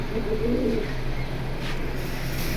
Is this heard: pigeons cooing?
yes